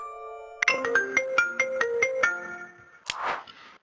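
A mobile phone ringtone plays a bright, chiming melody of quick, evenly spaced electronic notes, loud and close, then stops, followed by a short rustling burst.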